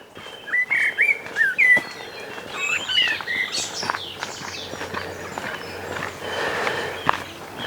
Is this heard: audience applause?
no